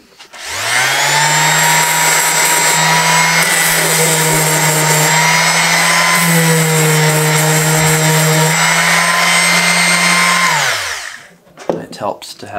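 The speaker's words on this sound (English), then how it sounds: "Now we'll sand that to smooth it out." A power sander works a wooden bowed-guitar body, a loud steady whining motor hum that runs about ten seconds and then winds down, followed by brief handling noises.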